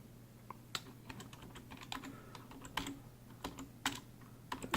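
Keys clatter on a keyboard hooked up to a Samsung DeX Pad with a Galaxy S9 Plus, giving irregular bursts of quiet close taps and short pauses, with no voices.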